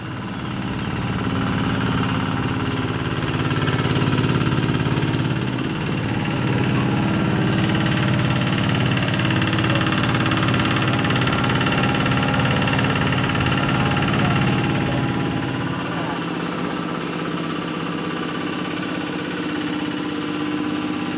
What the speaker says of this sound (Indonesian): ini adalah salah satu mesin rontokan padi atau power thresher yang belum jadi